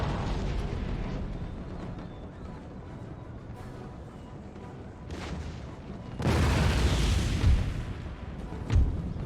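Cannon volleys in Empire: Total War fire at a wall during a Prussia battle, giving heavy booms and a dense rumbling roar that swells louder in the final seconds, with sharp blasts standing out near the end.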